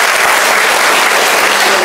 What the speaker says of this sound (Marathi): मंचावर बसलेले सर्व सन्मान्य मान्यवर त्यांच्यासाठी एकदा जोरदार टाळ्या होत्या.